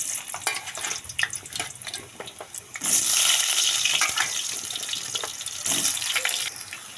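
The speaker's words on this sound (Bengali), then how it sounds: "এবার আমি আলুগুলোকে ভেজে নেব।" Diced potatoes drop into hot oil in a kadai and start frying, a scattered clatter and light sizzling that swells into a louder hiss partway through, with brief bursts of stirring noise.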